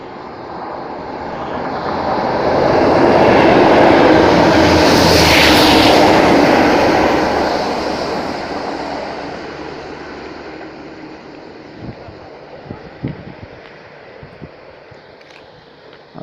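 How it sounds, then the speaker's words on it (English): A railhead treatment train passes by a station, its heavy engine rumble swelling up from a distance, peaking loud and close, then fading away with a few clanks at the end. "Next to pass by is a railhead treatment train from Carlisle to Carlisle."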